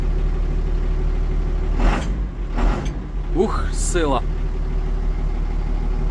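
A Skaut TD-1304C tractor engine idles quietly with a steady low hum close by, while someone speaks briefly over it.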